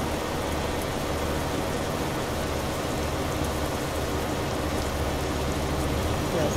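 Constant, even hiss of heavy rain, steady and close with no breaks, like downpour drumming on a surface or roof.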